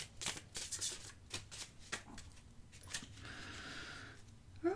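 Old playing cards being shuffled in several quick, papery riffles and bursts, fairly close and moderately loud, with no talking over them.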